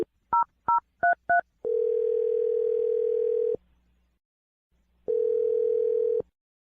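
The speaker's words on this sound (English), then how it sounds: "Dial the phone number right now." Four quick touch-tone dialing beeps, then two long steady telephone tones separated by a pause, clear and close.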